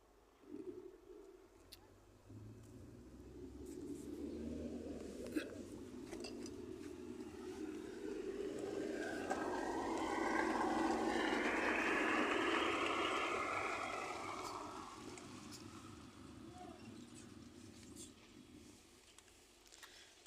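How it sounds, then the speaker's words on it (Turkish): A car passes by outdoors, its sound swelling gradually from faint to a broad whoosh at its closest and then fading away over several seconds, with no talk over it. "Araba geçti."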